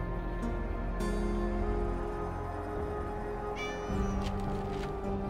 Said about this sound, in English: Cat is interested in helping me out because it's a cat.